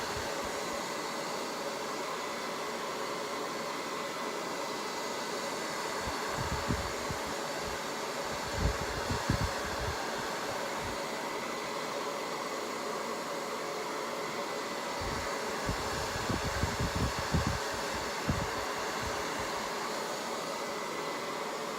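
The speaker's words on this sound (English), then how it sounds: "get my dryer." A hair dryer blows continuously at a steady roar while styling a purple bowl-cut quick weave wig, with a few low thumps and handling noises rising briefly under the airflow.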